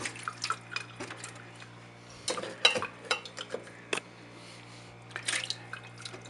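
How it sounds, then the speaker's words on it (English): Pickles are dropped into a brine-filled jar in a kitchen sink, giving scattered wet clinks, splashes and drips in short irregular clusters against a steady low hum, with no talking. "Now we add the pickles."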